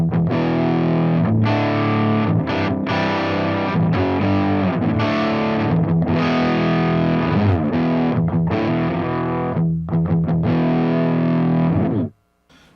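Electric guitar played through a Mesa Boogie Mark IV Rev A amplifier with a pedal engaged, loud, heavily distorted sustained chords and riffs alone, ending abruptly near the end.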